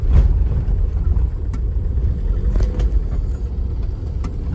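A car bearing an out-of-state MH-47 plate drives past at night on a quiet rural road, a steady low rumble of engine and tyres holding at moderate loudness before easing off.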